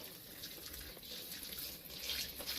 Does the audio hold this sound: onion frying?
no